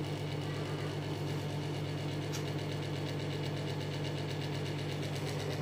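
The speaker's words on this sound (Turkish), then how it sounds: "İşte pamuk şeker makinesi diyor." A home cotton candy machine runs with a steady motorized hum and a fast, even rattle, constant and close throughout with no voices.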